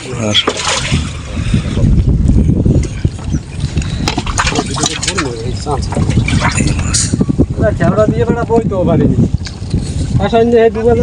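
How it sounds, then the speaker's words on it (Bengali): A hilsa fishing trawler is out on open water, with rumbling boat noise and gusty wind buffeting the microphone. Voices talk over the sound at intervals. "এই যে বন্ধুরা তাদের বোটে উঠে গেলাম"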